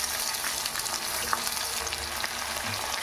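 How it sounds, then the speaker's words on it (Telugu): Onion, potato, tomato and green chilli pieces fry and sizzle steadily in hot oil in a pan, a continuous close crackle with occasional stirring scrapes, no voices. "అవి బాగా వేపుకుందాం"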